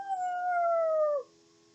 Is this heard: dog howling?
yes